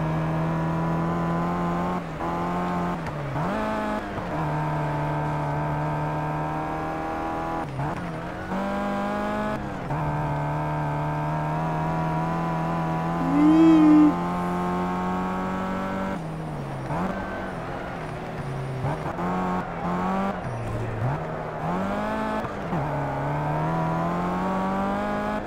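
Race car engine in the Project Cars video game, revving hard and accelerating through repeated gear shifts, with the pitch rising and dropping and brief tire squeal, loud and continuous throughout.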